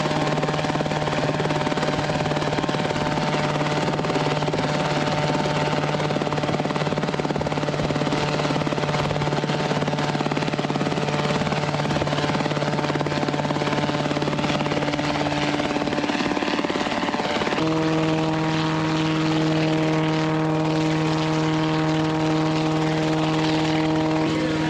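A repaired helicopter engine runs up, a loud steady turbine-and-rotor drone with sustained tones that step up in pitch partway through, continuous and close with no talk.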